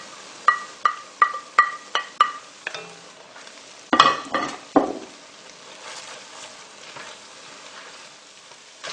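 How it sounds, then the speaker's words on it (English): Garlic hits a hot pot of beef stew and sizzles loudly after a run of sharp taps, the frying hiss swelling in bursts and then settling into a softer crackle. "I'm going to add the garlic now."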